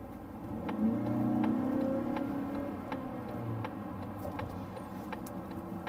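A naturally aspirated Mazda CX-50 merging onto an interstate, its engine a low steady hum from inside the cabin that swells and eases, with a regular soft ticking like a turn signal throughout.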